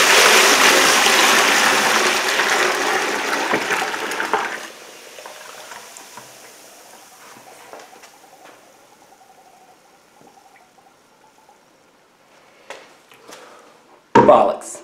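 Water poured into a container to submerge a rusty part for rust removal, a steady liquid rush for several seconds that then fades into quiet handling noises and a sharp knock near the end.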